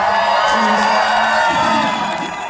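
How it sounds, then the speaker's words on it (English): American fans cheer and whoop at the MotoGP Fan Zone for the Americas GP, a loud, dense crowd roar with scattered shouts that fades slightly at the end. "all the American fans out here cheering"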